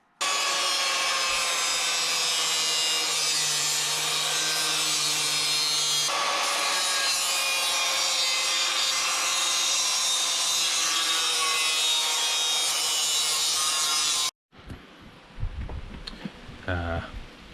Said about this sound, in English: First off, I'm going to have to slit this spot weld here